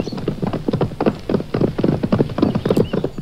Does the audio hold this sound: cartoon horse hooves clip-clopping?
yes